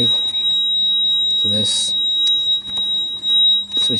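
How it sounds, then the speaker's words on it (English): A warning buzzer on a Mitsubishi Lancer beeps steadily as the ignition is switched on, a thin continuous high tone running under a man's nearby speech, alongside clicks and handling noises. "you hear the buzzer is basically going off"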